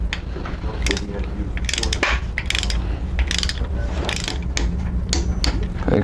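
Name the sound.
torque wrench and ratchet tightening cylinder head bolts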